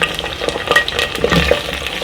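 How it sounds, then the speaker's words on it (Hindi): Stuffed tinda, round gourds, drop into a hot pan of oil and start sizzling and crackling, with stirring scrapes close up and no talking. "अब इसमें ये टिंडे डालेंगे।"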